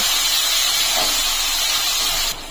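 Onion sizzles in hot oil in a pan with whole cardamom, cloves, cinnamon and peppercorns while cooking egg pulao, a steady close bright hiss that drops off just before the end.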